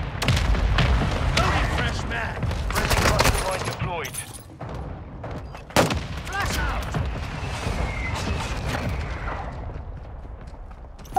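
Mortar strike explosions in Call of Duty: Modern Warfare II land as a run of heavy booms and crackling blasts. Sharp bursts cut through near the middle, all over dense, continuous battlefield gunfire and talk.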